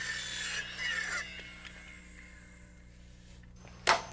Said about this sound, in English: I mark and cut the rafter tie to length and clip it just like the other end.